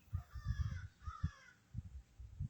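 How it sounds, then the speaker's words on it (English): Crows cawing outdoors, several rough calls in quick bursts, fairly faint and somewhat distant. "And my crows are really talking today."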